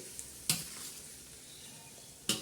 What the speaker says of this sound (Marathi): असा पूर्ण परत परतून घ्यायचा कारण लसणाचं चांगला तो तडका बसला पाहिजे